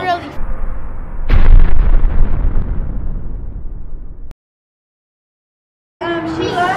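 A toy plays a loud explosion sound effect, a sudden boom that rumbles and fades over a few seconds, followed by silence and then children's voices.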